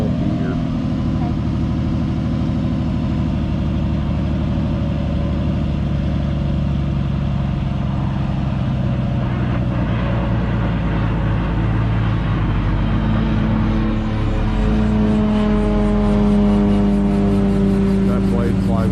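A helicopter engine runs loud and close during an Alaska trip, a rough, steady mechanical drone with a rising whine building toward the end.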